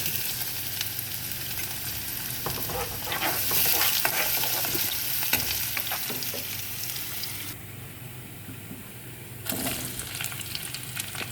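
Ginger and garlic fry in ghee in a pan, a continuous close sizzle broken by quick stirring scrapes, with a brief rush of louder hissing partway through.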